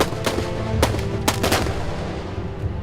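Rifle gunfire erupts during a naval boarding battle in a Beiyang Navy war film, with several sharp shots standing out over a dense, loud din of battle noise.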